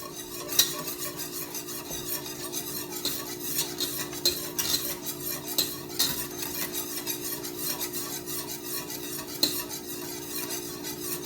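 Sweetened condensed milk is whisked constantly in a pot on the stove, with a busy rhythmic scraping and clinking of the whisk against metal over a low bubbling hiss, continuous and close.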